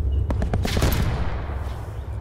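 Rapid bursts of gunfire in an outlaw-themed video game: several sharp shots cracking in quick succession over a low rumble, then a fading tail with a faint distant shot.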